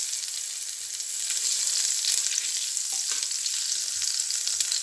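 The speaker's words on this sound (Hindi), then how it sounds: "हमने तड़का लगाना है।" Steady bright sizzling of spices tempering in hot ghee and butter, continuous and close, with a few faint stirring clinks.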